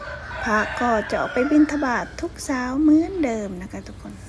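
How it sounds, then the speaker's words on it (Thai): A rooster crows in the early morning, several loud, drawn-out calls nearby, heard under someone speaking. "บรรยากาศก็มีเสียงไก่ขัน"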